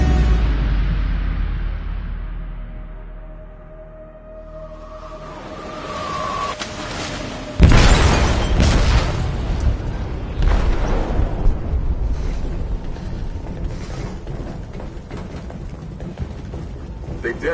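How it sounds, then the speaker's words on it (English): An explosive goes off in a ship's hold in the video game Detroit: Become Human: a low rumble builds, then a sudden heavy blast hits and leaves a long, loud roaring rumble of wreckage. "They detonated an explosive in the hold."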